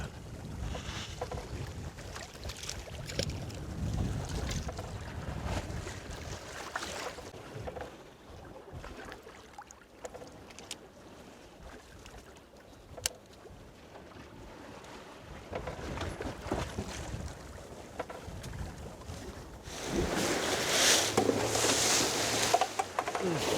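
A fishing boat on an octopus-fishing trip off Geoje Island pounds through high waves, its engine droning under steady wind buffeting the microphone and water rushing and splashing louder toward the end.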